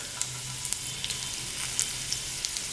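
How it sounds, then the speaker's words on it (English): Chili and garlic frying for tamarind rasam, a steady close sizzle with scattered small pops and crackles throughout, alone without any voices. "Let all this chili, garlic cook."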